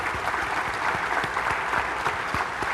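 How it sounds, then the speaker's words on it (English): Audience at a county fair queen contest applauds steadily, a dense wash of many hands clapping close by for the full few seconds with no voices over it. "Give them a big round of applause."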